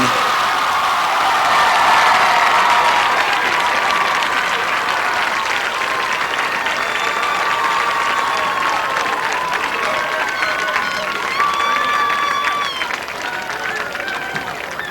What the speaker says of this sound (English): Let's give it up again for Ashley Rockwell, our new queen.